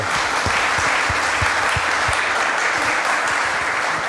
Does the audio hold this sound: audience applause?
yes